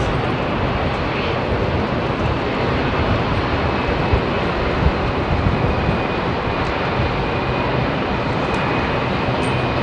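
A heavy jet departs runway 27R at London Heathrow, a loud, steady engine roar that fills the whole stretch without easing, close and dominant throughout.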